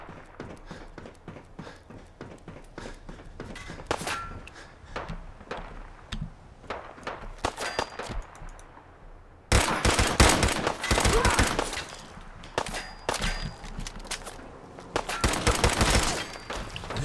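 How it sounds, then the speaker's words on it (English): In Fallout 4, a turret fires in rapid bursts of sharp cracks, with one fairly quiet stretch followed by louder, denser volleys that echo around. No one talks over the gunfire. "Sounds like a turret."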